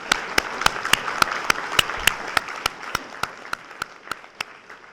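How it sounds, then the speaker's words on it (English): Audience applause at an all-candidates debate, with one pair of hands near the microphone striking a steady, evenly spaced rhythm of loud sharp claps over a softer bed of clapping from the room. "how about another round of applause for Marianne?"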